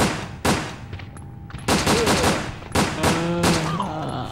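Gunshots from the Resident Evil Dead Aim video game on PS2: several sharp, loud reports spaced irregularly, some with ringing metallic tails and echoing decay between them.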